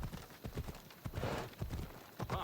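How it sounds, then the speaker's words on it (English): Horse hooves clip-clop in a quick, steady rhythm during riding in the video game Assassin's Creed Odyssey, close and clear with a faint snort. "It's like a very dangerous place to go riding a horse"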